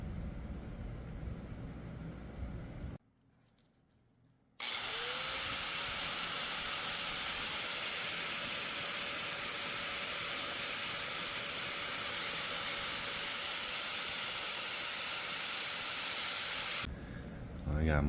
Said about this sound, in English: So I'm going to take all this paint off after all that.